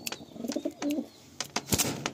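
Pigeons coo softly inside a loft in Baruipur, low throaty calls repeating among scattered chirps, shuffling and faint wing movement nearby.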